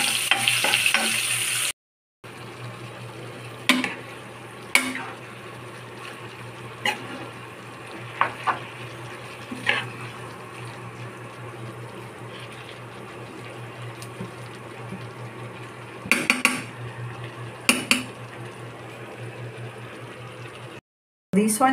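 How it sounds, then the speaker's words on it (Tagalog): Vegetables sauté with garlic, onion and chili for lumpia, a soft steady sizzle broken by irregular scrapes and clanks of stirring, over a constant low hum and without speech. "Okay, so I just sauteed it, put a little of oyster sauce, salt and pepper"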